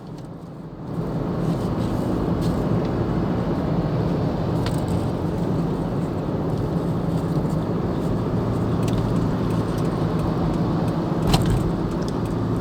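A car drives along the Cipularang toll road near kilometre 107 in Indonesia, a route with long steep climbs. Steady close road and engine rumble holds throughout at even loudness, with no talk.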